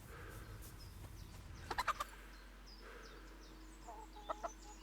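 Chickens in the medieval open-world game Kingdom Come: Deliverance cluck in short bursts over a low ambient hum, with a quick cluster of sharp calls near the middle and another pair toward the end.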